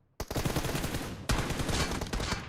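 Rapid automatic gunfire in a shooting video game, loud dense bursts of shots that start abruptly and run nearly continuously, with a short break and a fresh volley midway.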